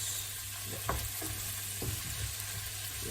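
Shallots frying with onions and garlic in a pan, a steady close sizzle broken by several soft scraping stirs, with no talking.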